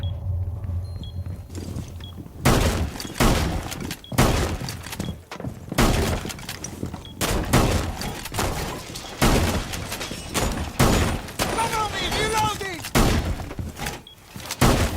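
Gunfire from the video game Rainbow Six Siege: loud, rapid bursts of shots and breaking, shattering impacts cut by brief pauses, with a voice talking at points.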